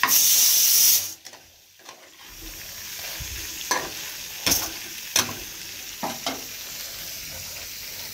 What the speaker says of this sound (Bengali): এখানে সব রকম মশলা দিয়ে পোটকালিজিটা ভালো করে কষানো হচ্ছে